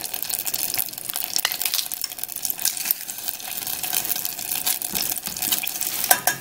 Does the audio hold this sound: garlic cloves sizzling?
yes